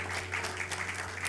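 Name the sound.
applause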